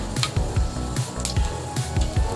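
Mustard seeds crackle and splutter in hot oil in a kadai as the tempering for a masala dosa potato filling begins, with quick repeated pops and squishy sizzles close by and no talk.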